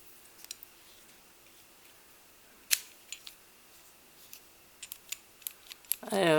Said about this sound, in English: Let's see if I can get this one out of the plastic.